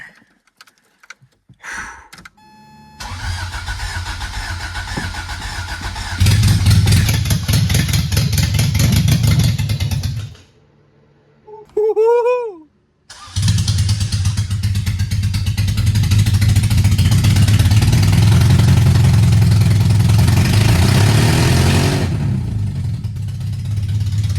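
A Toyota MR2 engine cranks and catches, then runs loud and close at a rough idle with rising revs, cuts out briefly, restarts, and settles back into a steady idle before fading.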